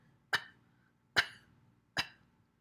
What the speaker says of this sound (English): Bend over, cough a little bit.